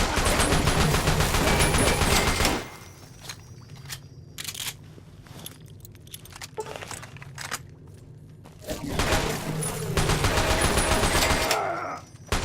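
Sustained automatic gunfire in the video game Fallout, loud and dense bursts for the first couple of seconds, then sparse distant shots and rattles before another long heavy barrage near the end.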